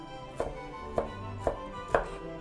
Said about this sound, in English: You just don't want a fine chop.